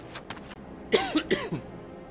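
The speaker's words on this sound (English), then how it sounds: "That's why I keep coughing, and it won't go away." Several short coughs in a quick cluster from a person with a tickle in the throat, close and fairly loud, with a faint throat-clearing quality and no speech.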